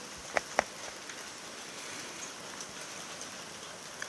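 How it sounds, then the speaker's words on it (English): Steady rain falls outdoors, a soft, even hiss of drops on surfaces throughout, with two brief sharper taps early on. "You can also hear that it is raining"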